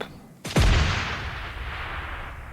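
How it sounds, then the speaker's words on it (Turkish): A rocket blast in the mobile game PUBG Mobile Lite: one sharp, loud explosive crack followed by a long, fading rumble and hiss, with no speech over it. "Kim roket atıyor lan?"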